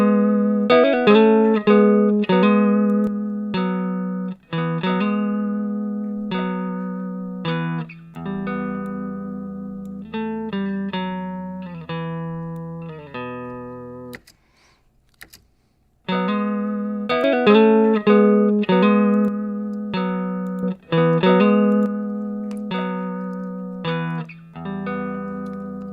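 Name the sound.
electric guitar with a boxy tone, equalizer bypass then cut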